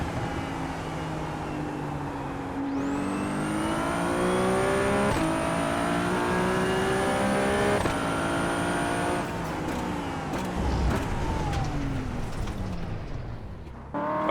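GT4 race cars in an iRacing two-hour endurance race on the Adelaide Street Circuit, one engine close and loud, revving up through rising pitch with sharp gear-change breaks, then easing off as other cars drone nearby.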